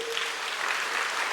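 Steady, dense applause from a church congregation during an evening revival service, a continuous close wash of clapping hands with no clear pauses.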